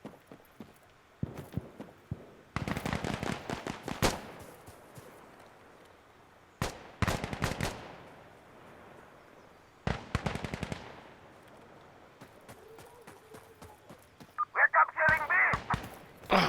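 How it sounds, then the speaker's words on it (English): Sniper and other gunfire in the Insurgency: Sandstorm video game, sharp repeated shots in bursts across the clip, with a louder cluster near the end. "I think I'm getting sniped at."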